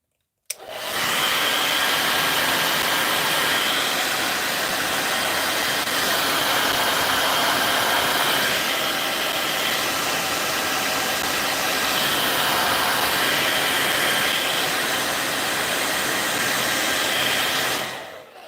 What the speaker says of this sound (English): Mute again if you don't want the blow dryer in your face, because here she comes.